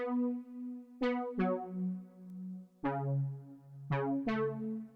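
A soft Juno synth plays a slow melodic line of sustained notes, each with a sharp onset and gentle decay, alone and fairly quiet.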